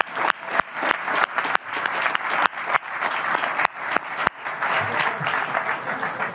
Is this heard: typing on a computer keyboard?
no